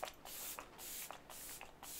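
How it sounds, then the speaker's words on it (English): Makeup setting spray misted onto a face, several short close hissing pumps in quick succession, with no talking. "let's go ahead and just put some of the setting spray on to melt all the powder"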